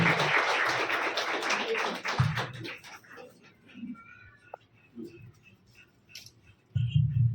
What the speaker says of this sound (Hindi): जोरदार तालियों के साथ हम सर का स्वागत करते हैं।